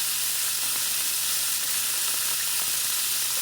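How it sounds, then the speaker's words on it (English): Beef tenderloin searing in a hot pan for beef Wellington gives a loud, steady, dense sizzle that fills the whole clip without pause. "We're not cooking it, we're just searing it."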